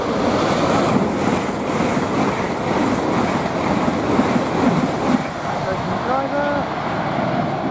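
A train rushes past at Stevenage on the East Coast Main Line at rush hour, a loud continuous roar with wind buffeting on the microphone, and a voice talking over it.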